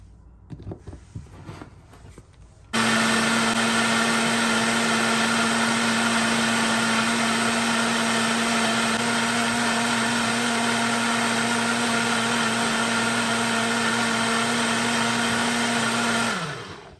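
A blender runs steadily for about fourteen seconds while blending a brain-food smoothie made with added water, a loud constant motor whine that starts abruptly after brief handling noise and winds down at the end.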